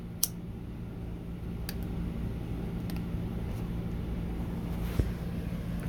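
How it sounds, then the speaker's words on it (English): A room air conditioner puts out a low, steady hum with a constant background drone, broken only by a few faint clicks and taps. "please don't mind if you hear that hum in the background. That's my air conditioner."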